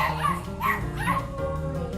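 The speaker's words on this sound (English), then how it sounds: "we have a real puppy" A small puppy at a puppy birthday party gives high yips and thin whimpers in quick bursts, close and fairly soft, with no talk over it.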